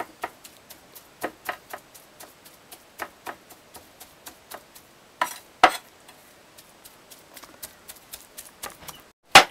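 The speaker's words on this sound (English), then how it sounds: "you're chopping this all up inside the meat" Knife chopping ingredients into meat for an Akha meat cake, a steady run of sharp, close cleaver knocks on a cutting board at a brisk, even rhythm with a few heavier strikes and no talking.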